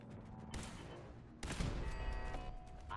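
Two loud bursts of gunfire hit a turret in Fallout 4, one at about half a second and a heavier one near 1.4 seconds, over a steady droning background with faint mechanical whine.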